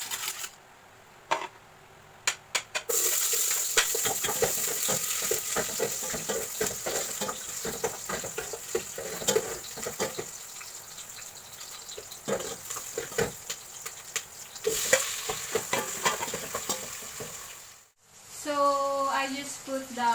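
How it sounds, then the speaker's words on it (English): Onion and tomatoes sauté in hot oil inside a casserole, giving a continuous close sizzle with intermittent stirring scrapes and clatter, briefly dropping away near the end before a voice speaks. "Then, when it's hot, I'll start sauteing the onion and tomatoes."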